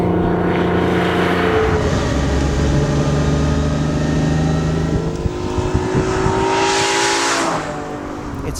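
A Fiat Dino Spider's engine runs loud and close, a sustained rough mechanical drone with some rising and falling pitch, quieting slightly toward the end.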